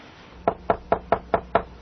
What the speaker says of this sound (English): He returned to the front door of the old house and knocked gently.